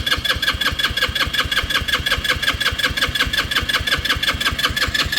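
A Motobravo Roma 150cc scooter engine fitted with an old carburetor starts and runs, a close, rapid, even putter of firing pulses throughout.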